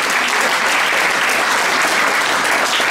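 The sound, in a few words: audience applause for young interfaith leader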